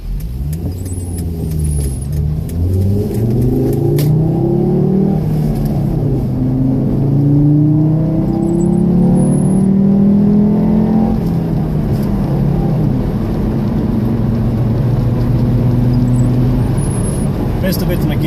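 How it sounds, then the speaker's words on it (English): A car engine revs up and drops through gear changes in the rain, rising and falling engine tones close by with road rumble, while a person talks. "Missed a bit in a gear change there"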